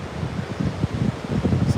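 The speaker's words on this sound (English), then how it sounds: "Damn, it's windy." Gusty wind roars steadily against the microphone at the beach, with low buffeting rumbles and a faint wash of surf in the background.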